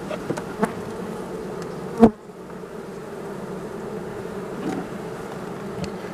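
A steady, close buzz of honey bees on a hive frame hums throughout, broken once by a single sharp tap.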